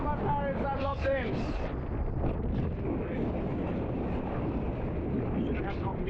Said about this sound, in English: The wind got just super strong.